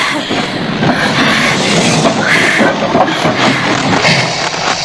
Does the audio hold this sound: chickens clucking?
no